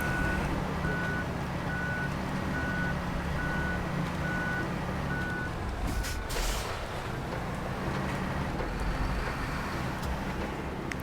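An articulated truck reverses in the Snowrunner video game, with a steady run of evenly spaced backup beeps for about five seconds over a constant low engine rumble. The beeps then stop while the engine drone continues.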